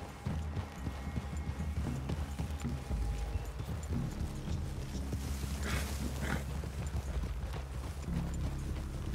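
Horses walk slowly in Red Dead Redemption 2, hooves clip-clopping in an uneven rhythm over a low outdoor rumble, fairly quiet and distant, with faint movement noise and no clear talk.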